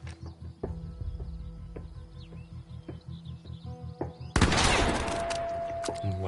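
Gunshots in The Quarry, with a few faint, sparse pops over a quiet outdoor backdrop, then a sudden loud crack and burst of noise near the end.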